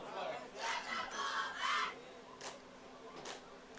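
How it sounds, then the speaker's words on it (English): A high school football crowd at a Friday night game between Amador and Pierce roars and whoops after a player's back pad flies up, with several swelling cheers and shouts fading in and out at a distance. "The whole crowd got into that one."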